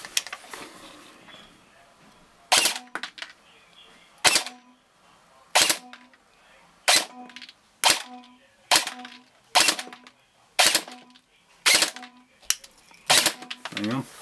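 An ASG Sten Mark II airsoft gun fires short bursts through a chronograph: about ten sharp, loud, evenly spaced rattling bursts separated by quiet pauses.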